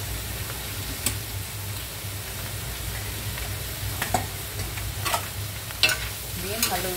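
Pork and chicken stir-fried in a pan for a Chinese kiamphong dish, with a steady close sizzle under scattered sharp clicks and scrapes of a utensil stirring against the pan, no talking.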